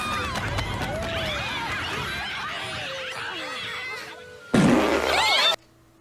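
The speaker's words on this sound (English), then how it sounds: "There is officially a fart joke in The Land Before Time." A comic fart sound effect from the animated film The Land Before Time XIII: The Wisdom of Friends, with a short, loud burst standing out near the end over busy cartoon music and voices.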